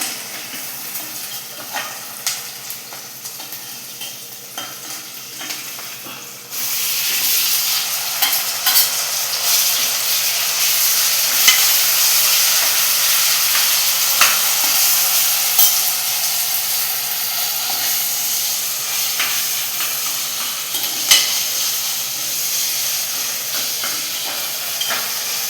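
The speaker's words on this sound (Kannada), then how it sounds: "ಈರುಳ್ಳಿ ಸಾಫ್ಟ್ ಆಗೋ ತನಕ ಫ್ರೈ ಮಾಡಿ ನೆಕ್ಸ್ಟ್ ಟೊಮೆಟೊ ಹಾಕ್ತಾ ಇದ್ದೇನೆ." Tomato added to softened onions sizzles loudly in a hot pan for tomato biryani, a quiet stirring start giving way to a sudden, sustained close hiss of frying with occasional scrapes.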